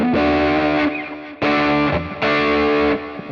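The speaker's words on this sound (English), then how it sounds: "plug in a little bit of distortion." Stratocaster electric guitar played through a distortion effect, three sustained, heavily saturated chords struck one after another, loud and close with no talk.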